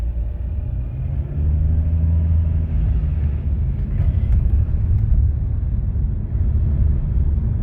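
An MG ZS car pulls away in city traffic: a steady low engine rumble with broadband road noise builds slightly as it moves off, continuous and fairly close throughout.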